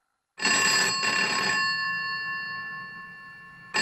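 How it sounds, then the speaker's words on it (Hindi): A telephone bell rings loudly in one long continuous burst, then falls silent and starts ringing again at the very end. "बगैर घंटी वाला फोन रखना पड़ेगा, कितना शोर करता है।"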